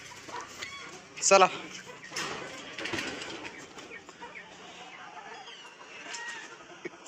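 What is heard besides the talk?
chickens clucking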